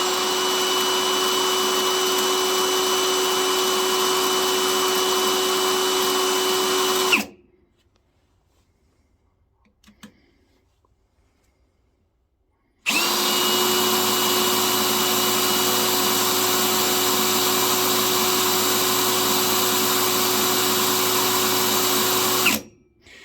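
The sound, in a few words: Parkside Performance cordless drill running at speed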